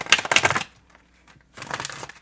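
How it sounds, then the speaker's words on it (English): A deck of tarot cards being shuffled by hand, two crisp papery bursts of riffling separated by a short quiet pause, close and fairly loud. "we'll give it another little shuffle here."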